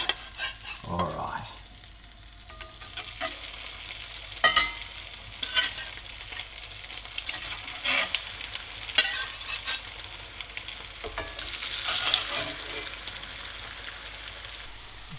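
Sausage and mashed potato patties frying in hot oil in a pan, a steady close sizzle and crackle with occasional louder pops and scrapes, no talking.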